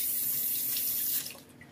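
Tap water runs steadily into a kitchen sink while two pieces of dried milkfish are rinsed, a close, continuous splashing rush that tapers off near the end.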